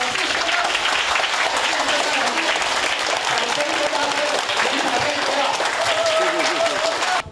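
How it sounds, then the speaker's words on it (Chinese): An audience at a stock-market lecture hall breaks into warm, sustained applause: steady, dense clapping from a large crowd that holds at an even level throughout, with a voice faintly present beneath it. "最热情的掌声欢迎！"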